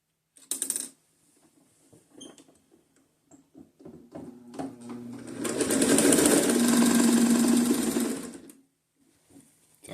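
Sewing machine stitching homemade fabric base layers for extreme cold, a few handling clicks and short bursts, then a loud, steady, rapid whir for about four seconds before stopping.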